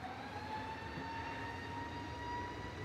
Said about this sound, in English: On the roll, though, first of all, is EasyJet 2051 to Rhodes